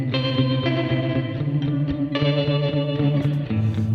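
Palm-muted electric guitar with a tremolo effect, short damped chords chugging under a steady pulsing throb, loud and upfront with no talking.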